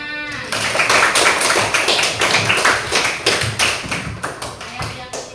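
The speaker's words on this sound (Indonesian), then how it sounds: "Ya, beri tepuk tangan." Children in an Indonesian classroom clap together in a dense, rapid burst that continues steadily and then thins into scattered claps, loud and close, with a voice faintly over the start.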